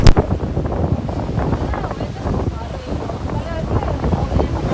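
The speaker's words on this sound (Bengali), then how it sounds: "এখানে সমুদ্রের ঢেউটা দেখো বিশাল ঢেউ বিশাল যেরকম ঢেউ দিচ্ছে সেরকম সুন্দর হাওয়া" Strong sea wind buffets the microphone at Kanyakumari, with big waves surging beneath it in a loud, continuous roar, and voices are heard faintly in the mix.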